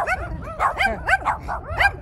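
Several small dogs bark and yip excitedly at close range beside a street skating spot in Tucson, Arizona, a rapid overlapping run of high-pitched barks with no talking.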